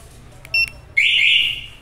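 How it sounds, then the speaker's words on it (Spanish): A BNY two-way motorcycle alarm goes off: a short pair of electronic beeps, then a loud sustained high-pitched tone from nearby that tapers off at the end. "El control vibra y empieza a sonar la alarma"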